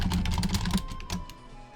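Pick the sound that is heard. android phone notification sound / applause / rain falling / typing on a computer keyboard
typing on a computer keyboard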